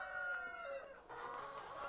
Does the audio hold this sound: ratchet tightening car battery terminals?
no